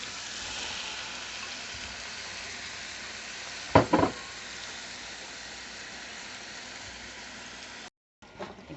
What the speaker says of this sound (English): And I put in my shrimp.